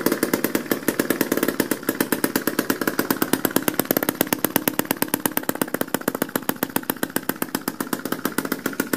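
A homemade internal combustion engine runs unmuffled in a fast, even train of sharp popping exhaust pulses, loud and close, steady for the whole stretch with no talking.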